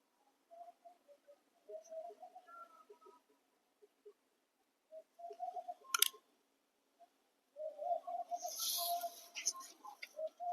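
A kept female pigeon coos softly in several short phrases, broken by small clicks and a sharp tick, then a rustling, fluttering burst under continued cooing near the end.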